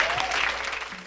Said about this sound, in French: Give Him a clap of praise.